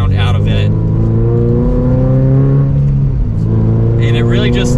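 A Toyota GR86 sports car's four-cylinder engine revving through an aftermarket exhaust, with a deep, loud exhaust note rising and falling, close up and continuous.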